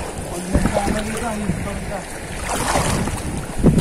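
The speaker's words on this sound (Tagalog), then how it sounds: "Ang lakas na ang agos galing sa sa taas." Strong river current rushing down from the mountains into the sea at a beach, a steady broad wash of moving water with gusty wind noise on the microphone and a voice speaking briefly over it.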